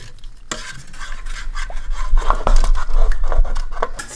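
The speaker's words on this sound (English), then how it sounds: "So I just mixed in some xanthan gum with a whisk" A whisk stirs a teaspoon of xanthan gum into a pot of hot, still-cooking chili verde, giving steady scraping and swishing strokes with faint sizzling, growing busier and louder toward the end.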